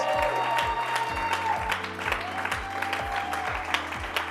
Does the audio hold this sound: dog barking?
no